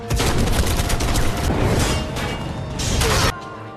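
A film shootout erupts in dense bursts of gunfire and crashing impacts, loud and continuous, with rapid volleys layered over each other before cutting off abruptly near the end.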